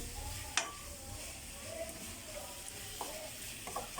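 Banana blossom being sautéed in a pan gives a steady, soft sizzle with faint stirring scrapes and a sharp clink near the start, close and fairly quiet throughout.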